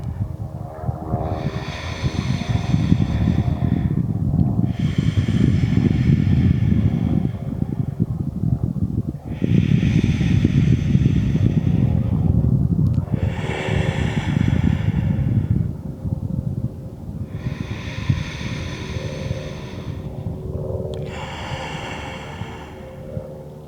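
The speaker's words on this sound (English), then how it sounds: "close your eyes and start with 3 deep breaths" Slow, deep breaths during a Vinyasa yoga class: six long, airy whooshes of alternating inhales and exhales, evenly spaced and close, over a low steady rumble, with no talking.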